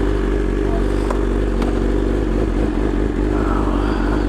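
A BMW S1000RR sport motorcycle engine runs loud and close, with a steady low rumble and a couple of sharp clicks and clatters over it.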